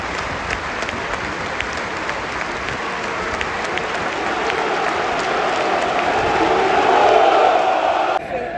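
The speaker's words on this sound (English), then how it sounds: "So that applause we just had was for someone connected to Queen's Park Rangers" Stadium crowd at Loftus Road football ground applauding for Queen's Park Rangers, a broad, steady roar of clapping that swells slightly and includes scattered shouts and cheers.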